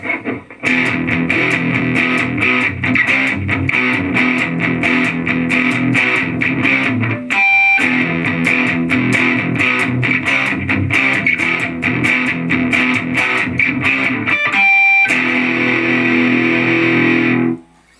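Distorted electric guitar through a budget amp modeler on a dirty 65 Twin setting, chords strummed hard in a steady rhythm, loud and gritty, with two brief breaks before the final ringing chord.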